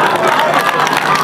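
Audience at an all-India Urdu mushaira in an Eid gah applauds in a dense, steady patter of clapping mixed with crowd noise, loud and close, with a voice talking over it.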